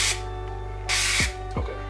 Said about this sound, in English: what you don't want to do is just drench this pan with olive oil spray.